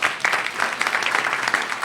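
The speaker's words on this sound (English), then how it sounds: "Give him a hand of applause" Audience at an industry collaborative event clapping steadily, a dense patter of applause from a room full of people throughout.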